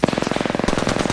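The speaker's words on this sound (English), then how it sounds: "Throwing Arcstar in there." An Arc Star grenade detonating in Apex Legends, a loud, rapid crackle of electric bursts rattling off in a steady stream of close pops for about a second.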